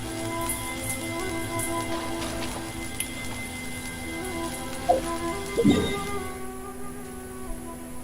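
A thunderstorm in Genshin Impact: steady rain hiss over a low game hum, with a couple of short cracking thunder or lightning strikes late on, and no one talking.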